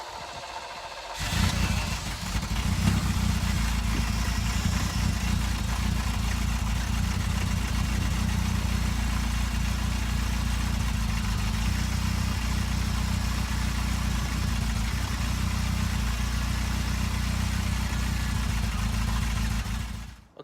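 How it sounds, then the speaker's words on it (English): Ferrari 308 engine firing up after a brief crank and settling into a steady, even idle, a low rumbling burble close by and unchanging for the rest of the time, with no talking. "Okay, so all good, fired up first time"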